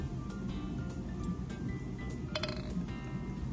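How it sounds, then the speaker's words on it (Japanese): Glasses of ice-cold Orion beer clink together in a toast at a steak restaurant in Okinawa, a quick series of bright, light chinks close by in a quiet room. "とりあえずキンキンのオリオンビールで乾杯しましょう"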